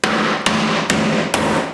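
Four sharp hammer strikes chipping out shower tile at an even pace, each a loud close crack followed by a ringing hum.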